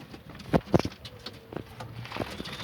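Pet pigeons, including a male pigeon, cooing in a few soft low calls, two close together early and several fainter ones after, over quiet background noise.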